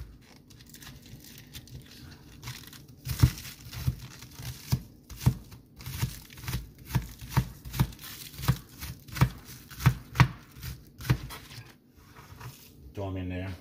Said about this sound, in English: I got some green onions. So if you want to chop them up.